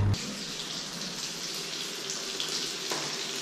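Shower water running steadily while laundry is rinsed by hand, a constant hiss of spray with a brief knock at the start and occasional small splashes.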